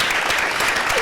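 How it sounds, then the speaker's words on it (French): An audience breaks into dense, continuous applause, many hands clapping together at a steady, fairly loud level for a short burst. "Ça, c'est une acclamation pour ces parents-là."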